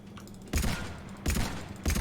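Three heavy, booming pistol shots spaced about two-thirds of a second apart ring out in Mass Effect 3, each followed by a short rumbling tail in slow, deliberate rhythm.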